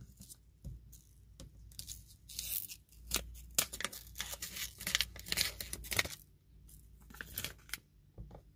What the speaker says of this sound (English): Let's go ahead and peel this off.